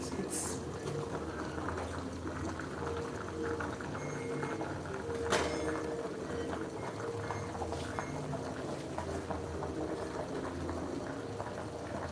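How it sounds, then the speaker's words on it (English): Pasta water boiling in a pot on the stove, a faint continuous bubbling simmer with a few light clinks of kitchen utensils. "So boiling our pasta, it just takes for about"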